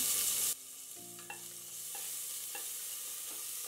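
Finely chopped onion frying in oil with cumin, mustard seeds and curry leaves for bread usal, a low steady sizzle after an opening burst of noise, with a few light stirring knocks.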